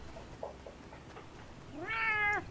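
A cat meows once near the end, a clear drawn-out mid-pitched call, close and moderately loud, after a quieter stretch of faint background sounds from an online shooter game.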